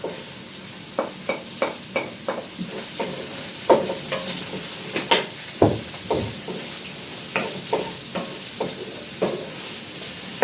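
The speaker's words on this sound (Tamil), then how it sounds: "முதல்ல நாங்கள் வெங்காயத்தை போடுறோம்" Sliced onions sizzle in a pan as the base for a fish curry, with a steady frying hiss broken by frequent sharp clinks and scrapes of a spoon stirring, close up and with no talking.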